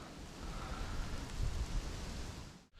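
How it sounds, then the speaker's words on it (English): Steady rain falls during a fishing trip, a dense, even hiss with low rumbling underneath that cuts off sharply at the end, and no one talks. "It's been raining steadily for a while."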